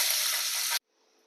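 Hot oil tempering with asafoetida, curry leaves, turmeric and coriander sizzles loudly and steadily in a pan, then cuts off abruptly, leaving only a faint hiss.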